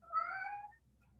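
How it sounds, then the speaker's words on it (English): A house cat meows once, a short, clear, nearby yowl lasting about half a second in an otherwise quiet room. "You might hear my cat yelling at me."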